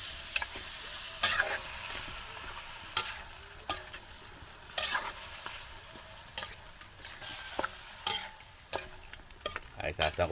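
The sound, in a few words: pork ribs and cassava searing in a pan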